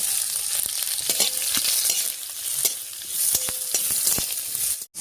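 Onions fry in a pan with whole coriander and cumin seeds, giving a loud, crackling sizzle broken by repeated sharp spatula clicks and scrapes, then a brief drop near the end. No one speaks.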